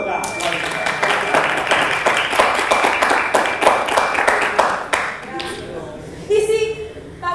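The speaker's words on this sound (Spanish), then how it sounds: "¡Ay, aplausos para la dermatóloga!" Audience clapping in a Spanish-language show, a steady burst of claps for several seconds that drops off, followed by a voice speaking.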